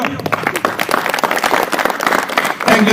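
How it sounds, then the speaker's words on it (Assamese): An audience claps loudly at a YouTube meet-up, with a dense, continuous burst of applause from a crowd, close and sustained for the whole stretch. "আপোনালোকে জোৰে এটা হাত চাপৰি দিয়ক"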